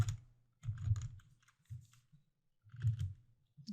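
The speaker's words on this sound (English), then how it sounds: "I'll go ahead and type in transform" Bursts of quick, close clicking keystrokes as code is typed on a computer keyboard, in short clusters with quiet gaps between them.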